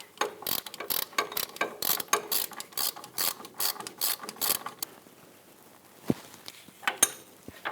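Ratchet snugging down a pinch bolt on the front upper control arm of a 2006-2010 Hummer H3, rapid close clicking bursts for about five seconds, then quieter scattered clicks and taps.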